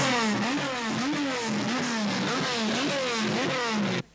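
Racing car engines rev hard in the pits at an Argentine motor race, a loud, continuous rising-and-falling roar with rhythmic throttle blips and no voices, cutting off abruptly at the end.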